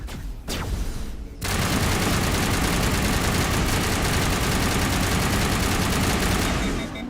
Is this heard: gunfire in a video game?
yes